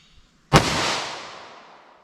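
A single 9mm 115 grain jacketed hollow point round fired from a 4-inch barrel in a ballistic gel test: one sharp loud report after a short quiet lead-in, trailing into a decaying echo lasting over a second.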